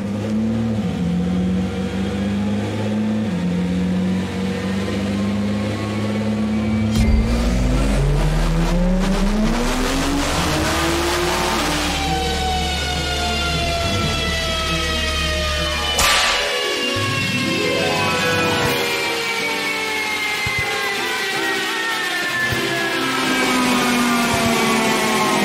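A tuned Nissan GT-R R35 running on street gasoline makes a loud, sustained full-power test pull, its engine note climbing steadily in pitch with abrupt gear-change steps before rising again and roaring continuously.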